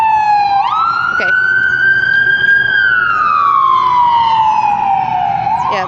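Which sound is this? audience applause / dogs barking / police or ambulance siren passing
police or ambulance siren passing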